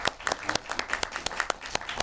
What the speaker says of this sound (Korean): 여러분 이분들한테 다시 한번 큰 박수 좀 부탁드리겠습니다.